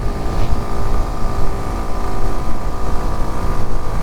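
A Kawasaki Ninja 125 motorcycle engine drones loudly at speed through a clutchless upshift, with heavy wind rush over the riding noise.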